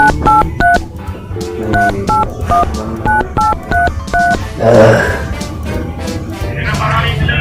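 Telephone keypad tones beep one after another in short, loud, evenly spaced presses, followed by a brief burst of louder noise and a softer hiss.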